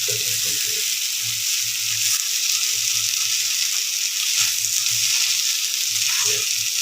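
Potatoes frying in oil in a black kadai, a steady close hiss and sizzle running throughout with soft stirring scrapes at intervals.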